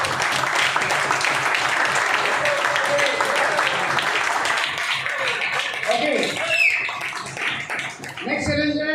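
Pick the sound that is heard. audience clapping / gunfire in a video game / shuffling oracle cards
audience clapping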